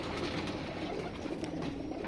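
Breeding pigeons coo faintly in a loft, soft low rolling calls repeating under a steady noisy background.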